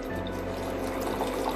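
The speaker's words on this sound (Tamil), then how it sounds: "ஸோ இப்போ இதோட 1/2 glass அளவுக்கு பால் மிக்ஸ் பண்ணிடலாம்." Milk pours into boiling tea, a soft continuous liquid splash and bubbling, faint and steady throughout the short moment.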